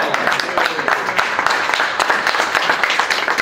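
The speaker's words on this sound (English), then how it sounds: "Round of applause." Audience applause at a plaque ceremony honouring community figures, a steady patter of many hands clapping at close range that fills the whole moment.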